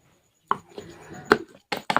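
Ginger pieces being coarsely ground into a mixture for a home-style eggplant curry, with short bursts of grinding noise separated by brief pauses, close and fairly loud.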